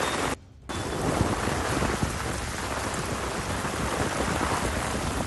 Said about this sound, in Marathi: वसई विरार नालासोपारा परिसरामध्ये अक्षरशः आभाळ फाटल्याप्रमाणे मुसळधार पाऊस पडतोय